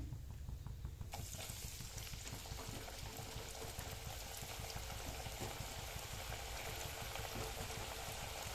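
Leftover chapati pieces frying in hot oil, a steady close sizzle and bubbling crackle that runs unbroken from start to finish with no talk.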